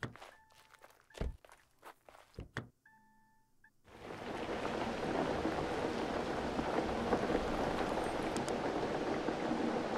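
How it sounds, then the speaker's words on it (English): Steady rain falls in the video game Overland, a dense even hiss arriving after a few seconds of scattered footsteps and short game tones. "Okay, so it's raining"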